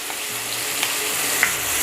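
Chopped onion sizzles steadily in a pan of melted butter and olive oil, a constant close crackling hiss with a few brief clinks of a utensil against the pan and no talk.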